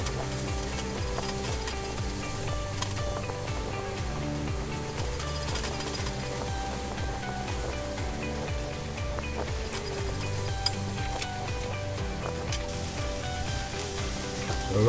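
Kale stirred with spice mix in a Dutch oven for a beef stew, a steady sizzle and soft stirring rustle running continuously, fairly close, with no talking.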